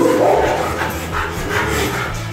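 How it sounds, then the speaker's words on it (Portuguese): A small dog barks out in the street, its barks loud but blurred and repeating irregularly within a dense, noisy wash of background sound. "Aí o cachorrinho tá na rua latindo."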